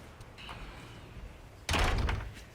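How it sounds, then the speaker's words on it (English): A door slams once with a sudden loud thud near the end, following a quiet stretch of faint room noise. "The door just doesn't close."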